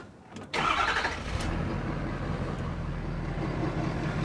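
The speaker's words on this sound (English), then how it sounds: "Once we start up the truck, we're going to let the truck run for about 5 minutes" A 2011-2016 Ford SuperDuty truck with a 6.7L diesel cranks briefly and fires up, then settles into a loud, steady, close idle with a low rumbling clatter.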